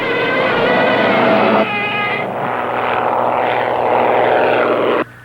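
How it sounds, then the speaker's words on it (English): A propeller aircraft drones loudly and steadily in a Gamera monster film, a close, continuous engine roar with humming tones that cuts off abruptly at the end. "Here comes the plane"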